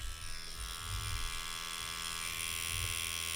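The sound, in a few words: Neuma 4 tattoo machine running, 4.2 mm stroke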